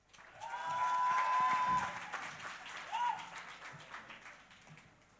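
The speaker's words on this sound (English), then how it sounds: "Ladies and gentlemen, round of applause." Audience applause at an awards ceremony swells quickly and holds for a couple of seconds before tapering into scattered claps, with a faint tone and light crowd sounds underneath.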